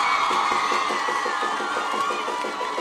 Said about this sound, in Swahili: Wapi makofi ya rais?